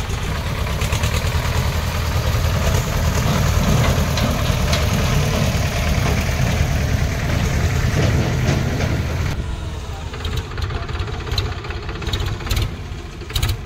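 A Powertrac 443 tractor engine labours steadily while hauling a trolley heavily loaded with about 80 quintals of straw, a loud continuous low rumble close by that eases somewhat near the end.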